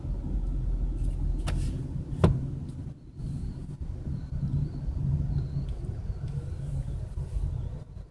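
A car driving slowly through the old-west-style streets of Old Town Scottsdale, heard as a steady low road and engine rumble from inside the vehicle, with a few brief knocks and faint high tones over it.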